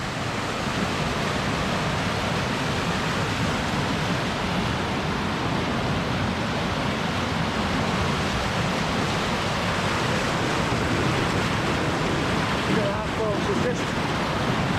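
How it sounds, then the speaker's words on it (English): Loud, steady rushing waterfall water in wild Scottish landscape fills the scene, a broad continuous roar of churning flow over rock with no pauses. "It's just like a bubbling cauldron of water"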